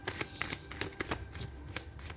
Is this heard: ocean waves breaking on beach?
no